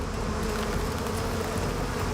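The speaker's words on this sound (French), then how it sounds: "les abeilles se mettent à faire vibrer leur abdomen" A dense, continuous buzzing of hundreds of honeybees vibrating their abdomens in unison against an attacking hornet, loud and steady throughout without pauses, like a humming swarm up close.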